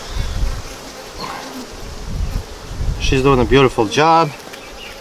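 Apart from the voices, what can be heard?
honeybees buzzing during a beehive inspection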